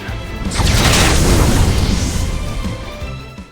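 A fire spell from the Octopath Traveler II video game erupts in a loud, booming blast that swells and roars with crackling burn, then fades over about three seconds, with no speech.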